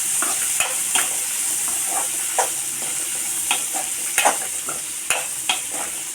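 Grated coconut being sautéed in a pan for a fish curry, a soft steady sizzle punctuated by several sharp spatula scrapes and stirring knocks at irregular intervals.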